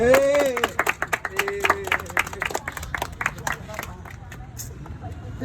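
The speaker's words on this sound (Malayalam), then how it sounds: "കൈയടിച്ചോ കൈയടിച്ചോ." Audience clapping at a birthday celebration: bursts of hand claps from a gathered group, loud at first then thinning into scattered claps, with voices talking and murmuring over and between them.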